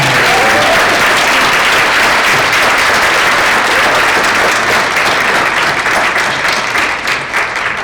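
Loud, dense applause fills the room for the nominees at an award event, a continuous wall of clapping from a large audience that holds steady throughout with only a slight dip near the end.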